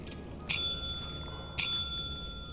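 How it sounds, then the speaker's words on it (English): A service bell at a customer service counter is struck twice, each a bright metallic ding with a ringing tail, spaced about a second apart against a quiet background. "I want to click the bell a couple more times."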